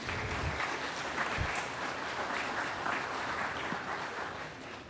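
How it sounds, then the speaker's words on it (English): Steady applause from the audience at a trauma symposium, a dense even patter of clapping held at a moderate, fairly distant level throughout. "Let's give him a round of applause"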